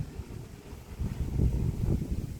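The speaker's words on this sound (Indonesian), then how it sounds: "Di sini suasananya pagi-paginya berangin" Low, blustery morning wind buffeting the microphone in a garden, rumbling louder in the second half with gusty swells and no voices.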